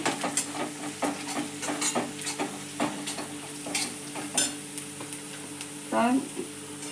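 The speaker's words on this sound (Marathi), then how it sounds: "आता याच्यामध्ये हळद घालूया हळद अशी मिक्स करून घ्यायची" A spoon scrapes and stirs turmeric into a sizzling leftover chapati upma mixture in a pan, making repeated rhythmic scraping strokes over a steady frying hiss, close up.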